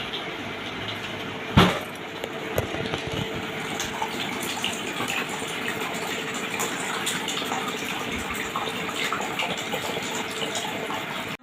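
Water from two green coconuts being strained for pudding, a continuous soft pouring and trickling with a brief clink near the start, close and fairly quiet.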